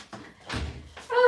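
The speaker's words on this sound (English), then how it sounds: "I am just going to shut my door." An indoor door is pushed shut with a couple of close, solid thuds, one louder slam in the middle, and a voice starts speaking right at the end.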